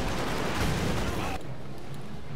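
Dense artillery and small-arms fire from a World War II battle at the Reichstag in Company of Heroes 2 forms a loud, continuous crackling roar that drops abruptly to a lower rumble midway.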